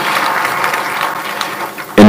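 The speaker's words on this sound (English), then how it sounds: "Ladies and gentlemen, another round of applause to our peers, please." Applause from an audience at a Pre-Madaraka Day celebration in Kibabi, a steady dense patter of clapping that holds for about two seconds before a brief louder burst at the end.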